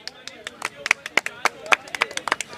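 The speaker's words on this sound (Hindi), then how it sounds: "ताली मार दो।" Scattered hand claps ring out at a political speech gathering, a loose run of separate sharp claps close by, about a dozen across a couple of seconds, with voices faintly in the background.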